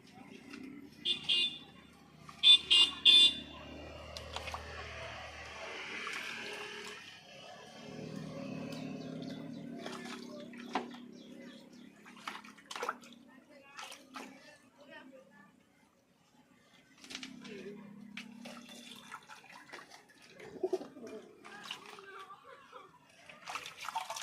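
Pigeons are bathed in water mixed with shampoo, alum, surf and potash to keep lice off, giving intermittent splashes and trickles in bursts, with faint voices in the background.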